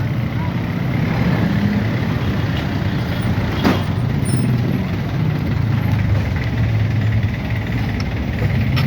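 Steady loud engine rumble of a truck or heavy vehicle idling nearby on a road, with a brief sharp knock partway through and faint voices under the drone.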